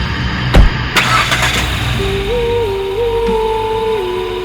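A car engine cranks and catches with a couple of sharp starter bursts, then settles into a steady idle with a slowly wavering hum, fairly close and clear with no talk over it.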